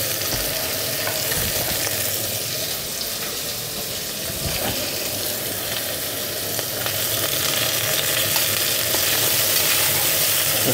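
Prawns fry in ghee in a pan with a steady, loud, close sizzle and crackle that runs unbroken throughout, with no voices.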